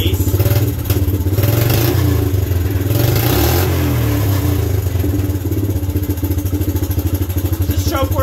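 A Suzuki LT125 ATV engine fitted with an aftermarket carburetor runs loud and steady close by, with the revs rising and falling slightly throughout.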